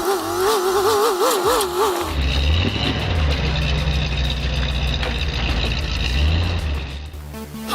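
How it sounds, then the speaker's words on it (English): A hand-built hydrostatic twin-turbo diesel motorcycle engine runs loud and close with a steady, rough mechanical drone, preceded by a couple of seconds of warbling music or effects. "Hydrostatic twin-turbo diesel motorcycle."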